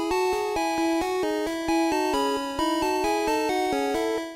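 Chiptune melody from Pokémon Red, Green and Blue, with bright square-wave notes stepping in a quick, even rhythm over a steady pulse, clean and alone.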